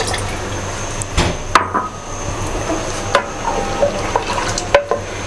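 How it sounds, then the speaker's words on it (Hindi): Flour mixed with water is poured into cooking mutton for Chinioti kunna and stirred, giving steady liquid churning with soft sizzling and a few sharp knocks of a spoon against the pot, with no talking. "ये भी हम गोश्त के अंदर ऐड कर देंगे।"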